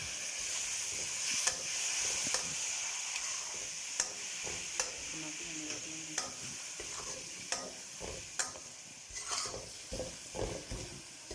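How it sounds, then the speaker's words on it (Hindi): Vegetable samosa filling fries over high flame with chili sauce and soy sauce, a steady close sizzle under repeated spatula strokes that knock and scrape the pan in an uneven rhythm. "ये सारी चीज़ें डालने के बाद हमने इनको अच्छे तरीके से फ्राई कर लेना है"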